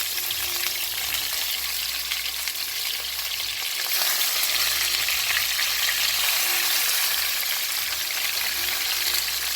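Steady, loud sizzling of chicken frying in a pot for Jamaican fricassee chicken, a continuous crackling hiss with no talking.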